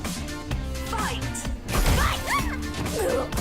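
Ice shatter impacts in a fighting video game tournament match, sharp crashing hits with whooshing swipes layered over busy game music, several bursts across the stretch.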